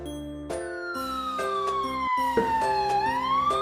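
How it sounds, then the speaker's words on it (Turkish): A wailing emergency siren with pitch sweeping slowly downward, loud and continuous, with light chiming tones over it. "Arkadaşlar bakın ambulans."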